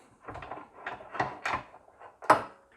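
Antique shears come out of a bench vise and are set back in, giving a series of sharp metallic clacks and knocks at irregular spacing, close and fairly quiet.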